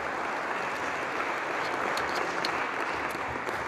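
Sustained applause fills a parliament chamber, a dense steady clapping from a large audience lasting throughout with no pauses.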